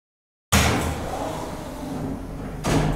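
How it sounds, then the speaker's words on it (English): After a moment of silence, the doors of a New York City B subway train open with a loud pneumatic hiss and rumble, followed by a second, shorter surge near the end. "The doors will open on the right."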